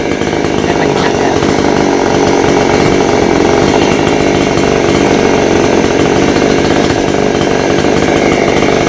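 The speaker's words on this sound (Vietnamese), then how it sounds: "cưa cái nhánh bị gãy." Chainsaw running loud and steady, close by, cutting a broken branch high on an old banyan tree more than 200 years old, with a continuous engine drone and no pauses.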